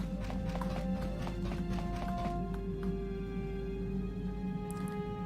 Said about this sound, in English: You think you hear a soft pitter-patter of footsteps behind you.